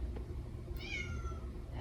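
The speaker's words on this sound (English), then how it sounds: "The cats want to join." A single faint house cat meows once, briefly and softly, in a quiet room with no one speaking.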